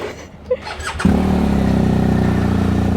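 A boxer motorcycle engine fires up after a brief squeal and settles into a loud, steady running drone up close.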